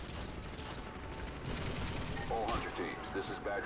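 Gunfire in Modern Warfare 2, the video game, with irregular shots under a steady game soundscape, and voices and effects growing busier toward the end.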